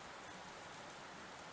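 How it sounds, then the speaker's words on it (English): Heavy rain hammers down outside a shop, a steady dense hiss of drops on hard surfaces with no breaks, continuous and enveloping, no voices. "The sound of the rain is extremely loud."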